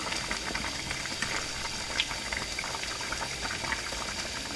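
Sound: vegetable biryani rice boiling in water

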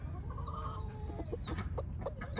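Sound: Ayam Cemani rooster clucking

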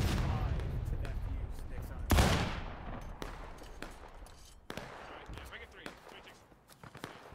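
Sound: musket gunfire in the video game War of Rights

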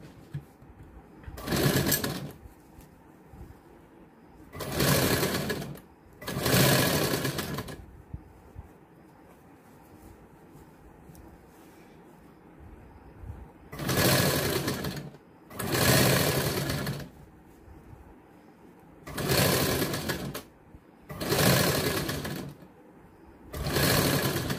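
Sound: sewing machine stitching a katori blouse

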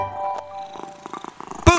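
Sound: kitten sound in children's song

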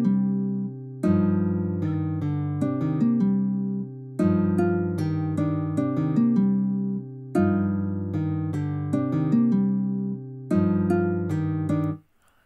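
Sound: acoustic guitar melody for a beat in FL Studio

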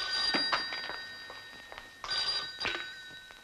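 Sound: telephone ringing

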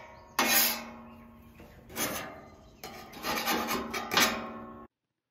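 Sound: bench scraper scraping a Camp Chef flat top grill

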